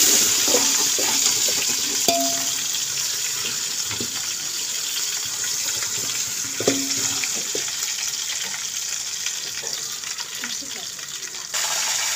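Ginger garlic paste frying in a pan with onions and spices for matar pulao, a steady soft sizzle throughout with scraping stirs and occasional clinks of a spoon against the pan, no voices.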